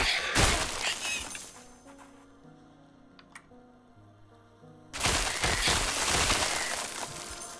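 A glass-shattering spell effect in the video game Kristala bursts loudly at the start, fades into a quieter tinkling, ringing stretch with soft tones, then erupts again into a second sustained crash of breaking glass.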